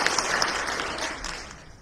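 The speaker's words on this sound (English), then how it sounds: "Let's give Shelly a good round of applause here." An audience claps in a round of applause, a dense, loud burst of many hands that gradually fades over about two seconds, without speech.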